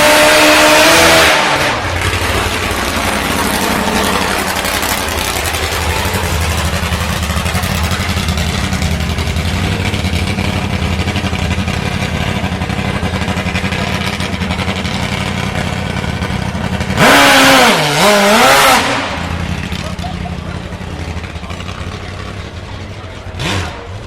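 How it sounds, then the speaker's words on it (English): A motorcycle dragster charges up a hill in a speed event, its engine loud and near as it revs and climbs in pitch over a long sustained run, with sharp bursts of wind noise. "It's a motorcycle dragster"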